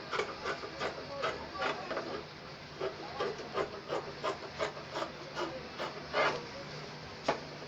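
Scissors cut through fabric for an off-shoulder blouse, a close, rhythmic series of crisp snips and rustles repeating roughly every half second.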